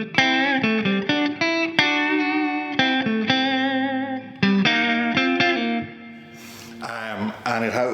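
Fender Ed O'Brien Strat electric guitar on the middle pickup position, played through effects with chorus, delay and reverb: a run of bright, shimmering chords and notes, loud and upfront with no talking.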